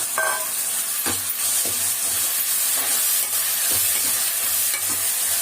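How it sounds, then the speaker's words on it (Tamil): Tomatoes, onion, garlic and pirandai sauté in a pan with a continuous close sizzle, punctuated every second or so by the knock and scrape of a spoon stirring. "தக்காளி, வெங்காயம், பூண்டு, இந்த பிரண்டை எல்லாம் வந்து நல்லா வதங்கணும்"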